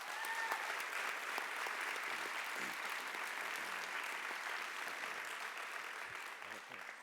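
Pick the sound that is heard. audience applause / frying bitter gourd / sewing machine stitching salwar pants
audience applause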